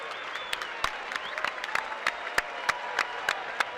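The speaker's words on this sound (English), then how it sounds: "I'm not embarrassed to applaud on this one." After a Golden Gloves boxing final bout, the crowd applauds with scattered claps over a steady background murmur, some sharp single claps standing out near the microphone.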